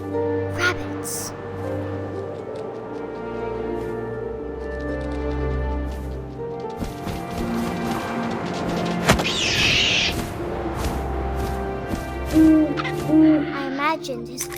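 An owl hoots in the video game What Remains of Edith Finch, low repeated calls under a narrating voice, with wind and a sharp crash partway through.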